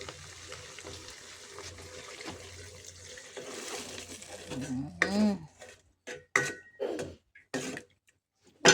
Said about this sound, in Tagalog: Next ay lagyan na natin ng sabaw.